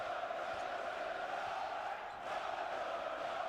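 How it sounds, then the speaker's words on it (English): A basketball arena crowd at a Champions League game roars in a sustained, dense wall of cheering and shouting, loud and steady with only a brief dip partway through. "Brown, the crowd bouncing up and down"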